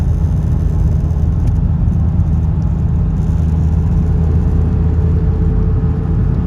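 From inside a 1990s Audi S4 C4 with a 2.2-litre turbo 20-valve five-cylinder, a BorgWarner S258SX-R turbo and Quattro, a loud, unbroken engine and road rumble drones at steady highway speed, with no talk.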